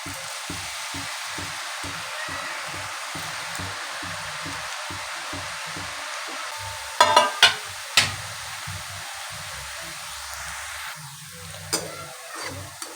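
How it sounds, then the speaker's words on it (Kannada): Aloo bhujia dough balls fry in hot oil with a continuous close, dense sizzle and hiss, and a few sharp clicks and knocks from the pan partway through. "ಇವಾಗ ಒಂದೊಂದೇ ಉಂಡೆನ ಹಾಕ್ಕೊಂಡು ನೀಟಾಗಿ ಎಣ್ಣೆಯಲ್ಲಿ ಕಲ್ಕೊಳ್ಳೋಣ."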